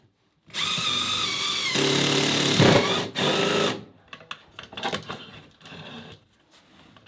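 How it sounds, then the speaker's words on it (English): A power drill boring through a wooden wall stud while solar wiring is run to a chicken coop, loud and close: a sustained whine with pitch shifts for about three seconds, then scattered knocks and clatter. "You're gonna have to drill through a stud."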